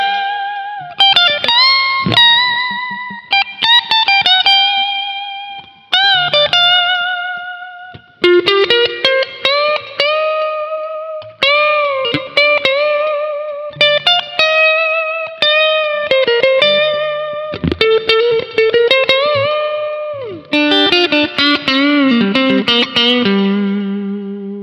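Electric guitar with a slow 400 ms delay, light feedback and low mix, playing sustained bent notes and phrases that ring out loudly with echoing repeats and no voice.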